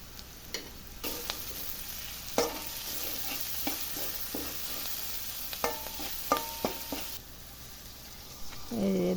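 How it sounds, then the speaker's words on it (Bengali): Potatoes frying in a pan with salt, chili powder and turmeric, a soft steady sizzle broken by repeated scraping stirs of a spoon, close and alone without talk. "আলুগুলো দিয়ে দিলাম, তারপরে একটু লবণ, মরিচের গুঁড়া, হলুদের গুঁড়া দিয়ে ভালো করে ভেজে নেব।"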